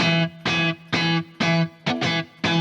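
Electric guitar playing a distorted, biting single-note riff with the other strings muted: short, punchy notes in an even, staccato rhythm separated by brief gaps, loud and close.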